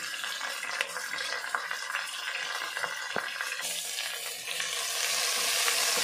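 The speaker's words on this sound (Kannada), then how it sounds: "ಈರುಳ್ಳಿ ಸ್ವಲ್ಪ ಗೋಲ್ಡನ್ ಬ್ರೌನ್ ಬರೋವರೆಗೆ ಫ್ರೈ ಮಾಡೋಣ" Chopped onions fry in a pan for millet bisibelebath, giving a steady close sizzle with scattered stirring clicks, swelling slightly louder toward the end.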